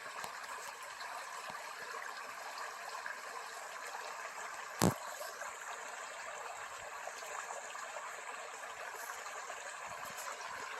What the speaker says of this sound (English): There's a little babbling brook here.